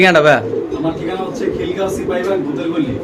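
Pigeons for sale coo softly at a bird seller's, their low, throaty calls mixed with nearby chatter and under a voice throughout.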